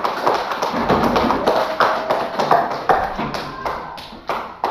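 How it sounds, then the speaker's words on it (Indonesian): A classroom of students applauds after their maths presentations, a ragged run of close, uneven claps and taps over several seconds, with a voice speaking now and then. "Sekali lagi tepuk tangan dulu untuk kalian semua."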